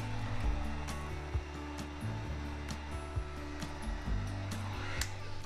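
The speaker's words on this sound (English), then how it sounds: "Now I'm going to turn my heat gun over it." Heat gun blowing hot air over resin, a steady close whooshing hum with a few faint clicks and knocks through it and no talk.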